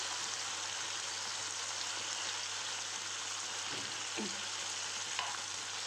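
Fish pieces, just flipped, fry in a pan with an even, moderately loud sizzle and crackle, a couple of soft utensil scrapes and clicks near the end, and no speech.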